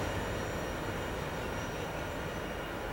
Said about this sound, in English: Special thanks for the horn salute.